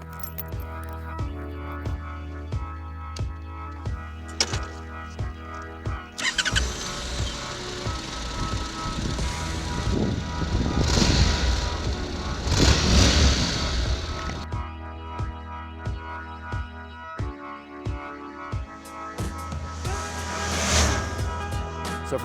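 A 2015 Honda NC700X motorcycle rides along, its steady engine drone and road rush building and easing over about twenty seconds, with wind swelling in louder passages and no talking.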